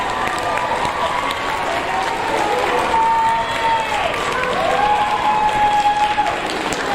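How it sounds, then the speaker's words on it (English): A crowd applauds steadily at an 8th grade awards ceremony, a dense wash of clapping that holds at an even level throughout, with a faint tonal hum running underneath. "Give them one more round of applause."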